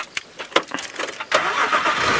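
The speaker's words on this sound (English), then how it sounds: "Stuck in a lion sighting with a car that won't start." A safari vehicle's engine cranks with a few uneven, stuttering turnover bursts, then breaks into a steady, loud rumbling noise, close up during a lion sighting.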